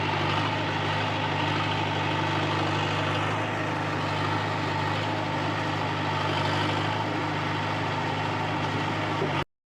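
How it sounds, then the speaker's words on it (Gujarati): A loaded tractor's engine runs with a steady low diesel drone, close and continuous throughout before cutting off abruptly, with no voices over it. "ઓલું ટ્રેક્ટર જો ભરાઈને જાય છે।"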